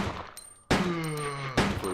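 Two loud handgun shots a little under a second apart in Resident Evil 2, each a sharp crack with a ringing tail, close and alone.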